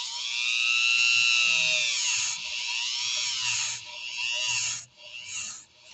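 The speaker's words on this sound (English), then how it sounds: "I might actually have to use my Dremel with a brush to kind of reach down in there" A Dremel rotary tool fitted with a brush scrubs rust from inside a Husqvarna Viking sewing machine upper tension unit, a high, steady whine that wavers in pitch as the load changes, close and continuous, then cuts out and restarts near the end.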